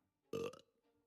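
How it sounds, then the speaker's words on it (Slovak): A single loud, croaking burp lasting about a third of a second, standing alone against near silence with only a faint murmur afterward. "Tak si grgol."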